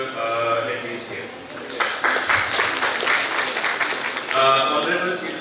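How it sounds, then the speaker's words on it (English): Audience applause fills a hall at a national conclave on sustainable energy, a dense wash of clapping that swells and carries on for several seconds, with voices faintly mixed in. "So huge round of applause for all the attendees here."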